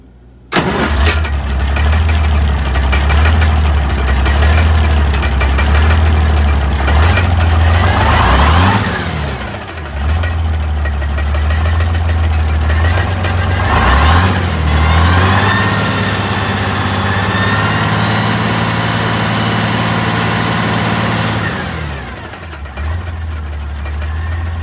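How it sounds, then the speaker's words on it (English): A Sherman tank engine roaring close by, loud and sustained with a deep rumbling drone, briefly dipping and swelling twice as the revs shift, then settling into a rough steady run before dropping off near the end. "this engine's making a hell of a racket"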